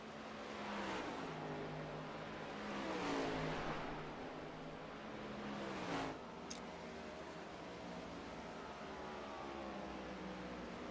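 Stock cars rolling down pit road in a NASCAR-style racing video game at Nashville: a steady engine drone that swells and fades as cars pass, with a brief sharp click near the end, no voices.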